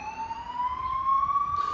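A wailing siren rises slowly in pitch, steady and fairly loud, sounding alone for under two seconds.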